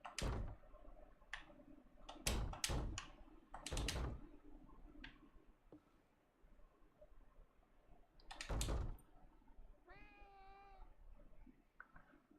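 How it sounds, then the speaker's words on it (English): Cats meow in the video game REKA, a clear wavering meow rising out of a quiet room tone, with sharp clicks and knocks like keyboard typing scattered before it. "So if you hear cats, they are in the game somewhere."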